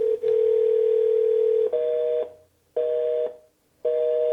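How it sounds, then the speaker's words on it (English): A steady telephone dial tone hums alone, then turns to a repeating on-off tone with short gaps of silence between bursts. "That dial tone means that they did not get into the queue"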